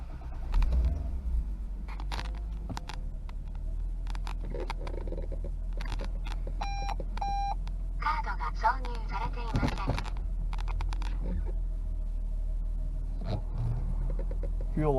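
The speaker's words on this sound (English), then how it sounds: "All right, let's take it for a drive." A 1992 Toyota Soarer twin turbo on the move, its steady low engine rumble running throughout with road noise, occasional clicks and brief tonal beeps, while a voice speaks now and then.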